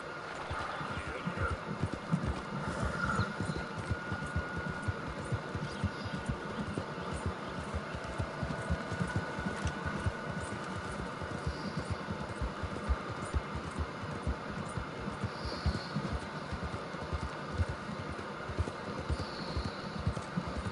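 Horse hooves galloping in the Red Dead Redemption 2 video game, a steady, continuous rhythmic pounding that runs throughout, with a constant low rumble of movement beneath and no speech over it.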